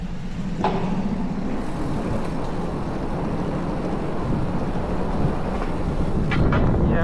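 A 2200W dual-motor Aniioki A9 Pro Max ebike climbs a 20% incline on throttle, a steady low motor hum blended with rushing wind and road noise, unbroken for several seconds.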